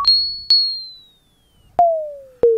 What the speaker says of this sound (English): here you can still sort of hear the gradual fall or gradual rise of the sine wave, but it suddenly gets modulated by that square wave